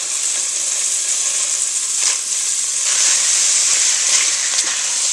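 Peppers and onions sauté in olive oil in a kettle, a steady bright sizzle with occasional spikes as the vegetables are stirred, close and continuous.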